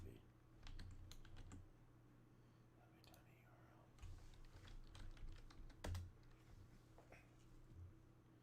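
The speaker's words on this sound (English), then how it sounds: "You're typing the URL in" Someone types a web address on a computer keyboard: quiet bursts of key clicks come and go over a steady low hum, with faint soft voices in the background.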